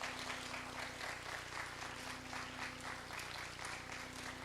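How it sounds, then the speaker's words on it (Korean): A church congregation claps during a worship service, a steady, fairly faint wash of applause over a constant low hum from the hall. "우리 박수하겠습니다. 나오실 때."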